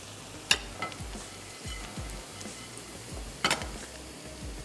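Onions for mutton balti gosht fry gently in a pan, a soft sizzle under a few sharp clinks and scrapes of a spoon stirring against the pan.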